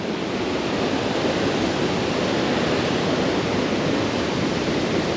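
Steady, dense roar of a large waterfall on the Mekong at the 4000 Islands in Laos, loud and continuous throughout with no voices.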